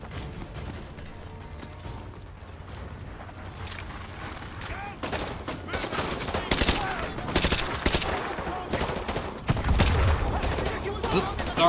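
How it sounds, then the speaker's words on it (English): Shotgun blasts and other weapon fire in Call of Duty: Modern Warfare 2 Remastered start sparse and grow into dense, loud volleys of sharp cracks and booms over a constant rumble of combat. "it's shotgun time"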